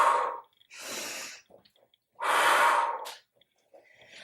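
Heavy open-mouth exhalations during a glute-strengthening workout: two long, loud breaths close to the mic, separated by short quiet gaps with faint smaller breaths, and no speech.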